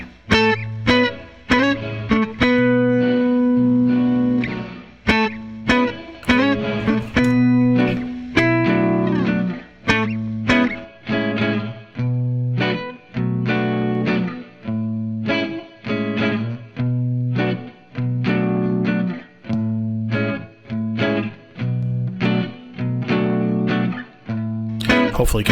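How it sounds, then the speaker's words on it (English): A recorded electric guitar played through a Line 6 Helix, treated with Cubase's impulse room reverb, rings out in repeated strummed chords and single notes with short gaps between phrases. A small roomy tail hangs on each hit. "I really like the reverb, the room reverb."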